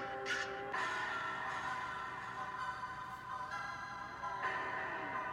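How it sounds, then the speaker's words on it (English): Crow caws used as a sound effect in the background of a rap track, the caws heard behind a steady, dense musical mix throughout. "It even got the little crow sound effect in the back."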